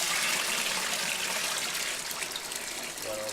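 Water gushes out of an Electro Freeze B24 ice cream machine during a wash-out, a steady close splashing pour that eases slightly near the end.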